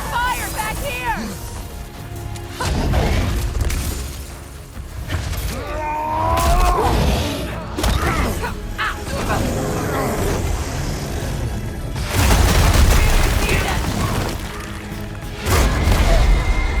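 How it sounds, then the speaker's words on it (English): Incoming gunfire and explosions from the video game God of War Ragnarök: repeated loud crashing blasts and impacts in bursts across the stretch, with voices talking over the combat noise. "Incoming fire back here!"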